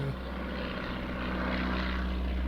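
A propeller biplane drones steadily overhead with a low engine hum that stays constant and fairly loud.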